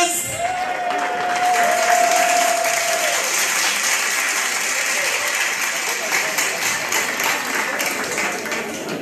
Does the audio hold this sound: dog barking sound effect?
no